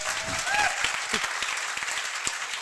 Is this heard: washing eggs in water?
no